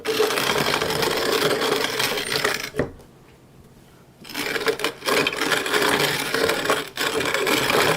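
An antique hand-cranked coffee grinder chews through dark coffee beans with a loud, gritty, continuous crunching. One short pause breaks the grinding, then it resumes, up close.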